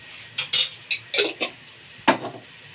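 Rice seasoned with black pepper and salt stirred in a metal pot for koshari, several sharp close scrapes and clinks of a spoon against the pot in an irregular rhythm, with no talk.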